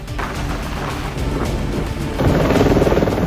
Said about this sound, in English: A helicopter is coming to bring some pieces for the construction.